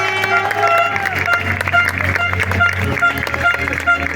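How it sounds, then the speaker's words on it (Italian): A crowd in Asiago applauds and cheers Spanish cyclist Carlos Verona at a Giro d'Italia stage podium ceremony, a dense sustained roar with music and an announcer's voice over it. "viene accolto ora dal grandissimo applauso di Asiago"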